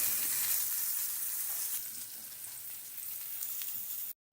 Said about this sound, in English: Shallots in until they get nice and crispy.